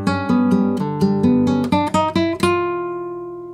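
A flamenco guitar plays a chromatic melodic phrase in soleá style starting on C, picked with alternating rest strokes: a quick run of about a dozen distinct plucked notes, close and clear, ending on a ringing note that fades out.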